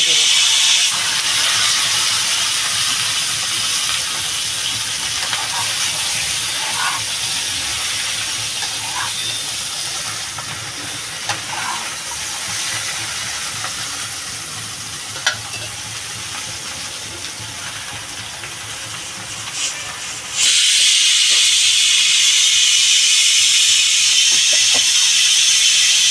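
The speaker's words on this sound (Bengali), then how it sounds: "এবার আমি কচু শাকটা দিয়ে দেবো।" Taro leaves hit a hot kadai for a spicy prawn taro-leaf dish, giving a loud, steady close-up hiss of steam and sizzle that swells sharply near the end.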